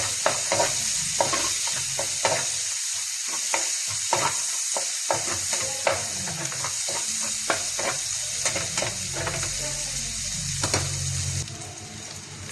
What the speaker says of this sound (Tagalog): magigisa na tayo ng bawang sibuyas